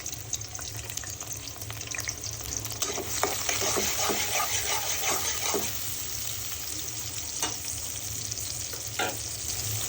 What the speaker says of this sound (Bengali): তো তেল গরম হয়েছে দিয়ে দিব পেঁয়াজ কুচি দিয়ে দিব